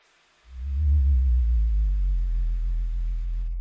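A loud, low sub bass tone fades in and holds steady for several seconds, a smooth humming rumble with a slight wobble and no other sounds.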